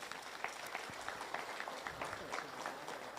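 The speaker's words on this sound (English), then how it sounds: "Let's give her a round of applause." Audience applause greets the brown Suri alpaca fleece champion at a national fleece show awards, a soft, steady patter of many hands clapping at a distance with light murmuring mixed in.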